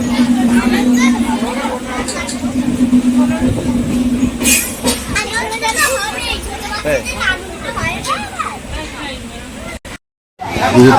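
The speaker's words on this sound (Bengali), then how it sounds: "অনেকদিন পর ট্রেনে যাচ্ছে তাও এক্সপ্রেস ট্রেনে" An express train carrying a festive group to Tarapith keeps up a continuous rumbling, rattling ride, with excited children and chatter over it and a brief dropout near the end.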